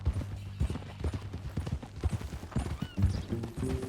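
Horse hooves in the video game Red Dead Redemption 2 clip-clop in an uneven rhythm, fairly close, with a horse's snort and a soft whinny near the end.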